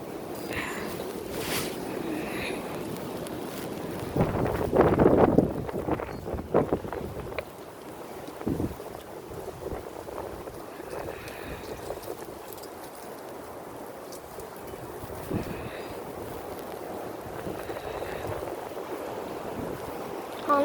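Strong gusting wind in a windstorm on Long Island buffets the area with a steady roaring rush and a louder surge of gusts and microphone buffeting early on, then a lower ongoing whoosh.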